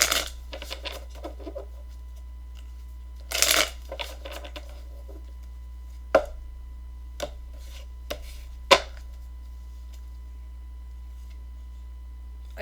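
A Gilded Tarot Royale tarot deck is handled and shuffled in a quiet room, with brief papery riffles and scattered soft clicks and taps separated by near silence.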